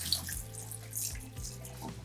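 Cold tap water running steadily over cooked noodles in a sink during rinsing, a continuous splashing stream with faint clatter underneath.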